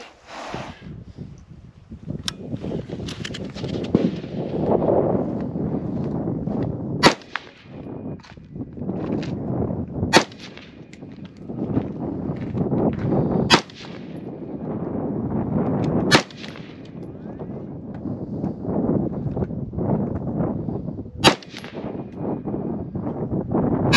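Sharp 5.56 rifle shots crack out one at a time at a shooting session, about six reports spaced several seconds apart, loud and close over a steady rushing outdoor background, with no speech.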